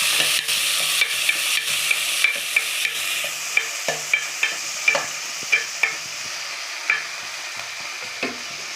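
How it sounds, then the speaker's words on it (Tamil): Onions, tomatoes and green chillies sauté in a hot pan, a steady sizzle broken by regular scraping stirs of the spoon, close and clear with no talk. "அதுக்காண்டி 2-3 உப்பு சேர்த்து இதை நல்லா வதக்கி விடுவோம்."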